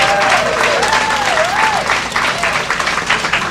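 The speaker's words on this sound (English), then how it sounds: "Can we have the Suitland community stand up again and give yourselves a round of applause for persevering" A crowd at an outdoor groundbreaking ceremony for a town square at the Suitland Federal Center claps in sustained, loud applause, with a voice speaking over it briefly.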